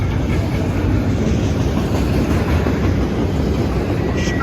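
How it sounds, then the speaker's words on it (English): A freight train loaded with Schneider containers rolls steadily past up close, a dense rumble of wheels and cars with a faint clickety-clack throughout. "it's about one of the hottest trains on this line"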